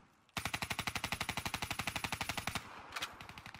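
Fully automatic gunfire in Call of Duty Black Ops III multiplayer, a loud rapid burst of about twenty evenly spaced shots lasting two seconds, followed by a brief gap and a few scattered shots.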